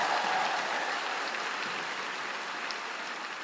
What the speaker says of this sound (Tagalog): Pag sinigaw palakpak, palakpak na malakas.